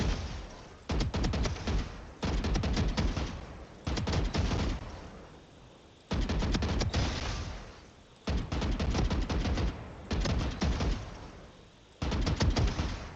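Rapid automatic gunfire from Clove's weapon in the video game Valorant, loud and close, fired in about seven sustained bursts separated by short pauses, with no talking.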